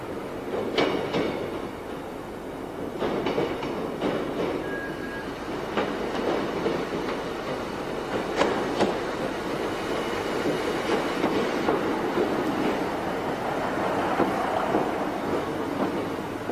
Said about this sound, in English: As the train approaches its first station stop